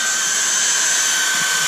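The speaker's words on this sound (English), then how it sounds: "It's just a hair dryer" A hair dryer blows with a steady, close, whirring hum. It is heating car headliner material from about a foot away during a 1955 Chevy Nomad headliner installation.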